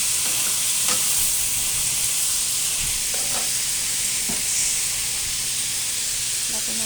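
Ingredients seasoned with pepper are sautéed in a pan, giving a steady loud sizzle and hiss. A few light utensil scrapes and stirring clicks sound over the frying.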